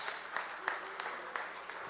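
Church congregation applauding the Lord during a service, soft and somewhat distant steady clapping with a few sharper claps standing out.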